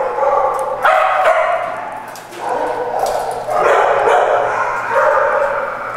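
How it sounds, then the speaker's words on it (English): Several dogs at an animal control shelter bark, yip and whimper in a loud, overlapping chorus that continues throughout, with a voice talking amid the noise. "These are some dogs that's up for adoption."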